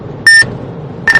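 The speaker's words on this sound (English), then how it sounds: "Beep." Electronic alert tones sound during a tornado warning livestream: two short, bright beeps about a second apart over a low background rumble.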